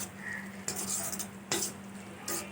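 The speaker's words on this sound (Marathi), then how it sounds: "मिक्स करून घेते एकदा परत" Lima bean pod curry with crushed peanuts being stirred in a pan: three brief scraping clatters of a spatula against metal over a faint, steady sizzle.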